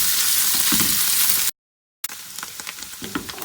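Ground bitter gourd seeds frying in a pan, a steady close sizzle broken by a brief silent gap, then continuing with stirring scrapes.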